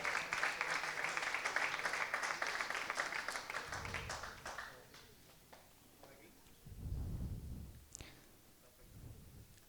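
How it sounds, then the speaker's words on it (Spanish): Applause breaks out for José Luis Villar at a Spanish hockey federation centenary ceremony in Valencia: dense, faint clapping for about four seconds, then a voice talks over the thinning sound. "José Luis Villar, por favor, fuerte aplauso para él"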